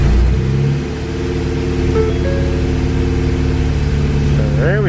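A Ford Focus engine running just after a new motor was installed, holding a steady mid-pitched idle with a slight dip early on, loud and close, with no talk over it.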